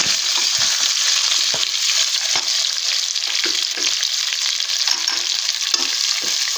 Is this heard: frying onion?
yes